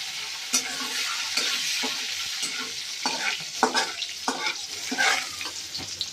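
Soaked peanuts tossed into a hot frying pan and stirred, a steady sizzle with repeated scraping strokes of the spoon, close and alone without talk.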